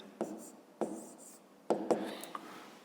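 Pen or pencil scratching on paper while working out a fifth-grade math problem, in several short bursts of strokes separated by brief pauses, close and fairly quiet.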